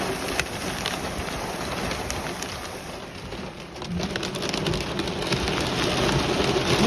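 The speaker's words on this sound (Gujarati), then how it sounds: "વરસાદ," Rain pours during a thunderstorm outside Crown Casino in Perth, a loud, dense and unbroken wash of rainfall with gusting wind, swelling slightly toward the end.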